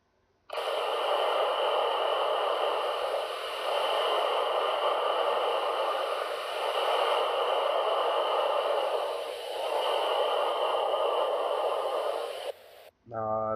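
Plasma hiss recorded in space by NASA, a steady broadband static-like hiss with slow swells in loudness, sustained for around twelve seconds and ending in a brief blip.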